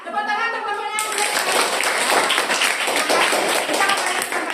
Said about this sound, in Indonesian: Tepuk tangan untuk kelompoknya Aninda.